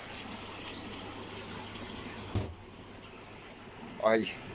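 Water gushes steadily from the overflow of a koi pond filter during fry-rearing maintenance, a continuous near rush with a brief splash and later a short rising gurgle.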